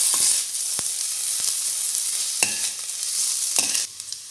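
Onions with ginger garlic paste sizzle steadily in a pan while being stirred, with a few sharp scraping clicks from the spoon against the metal; no one speaks.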